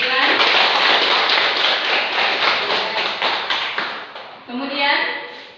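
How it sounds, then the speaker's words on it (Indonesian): Classroom students clapping for a classmate, a loud crisp burst of many hands beating in a quick rhythm that fades out, then a voice speaks over the tail. "Oke, tepuk tangan untuk Ilan."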